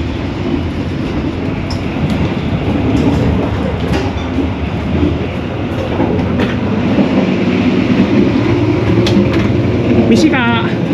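A constant loud rumble and rattle fills the carriage of the Argo Bromo Anggrek passenger train as it runs, with faint clicks and a brief whirring near the end.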